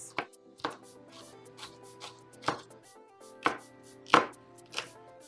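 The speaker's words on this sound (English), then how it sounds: "I cut a red bell pepper and an orange bell pepper, and I'm gonna actually cut these up in" A knife slices through red and orange bell peppers on a cutting board, about eight crisp chopping strokes at an irregular pace, close and clear with no talking.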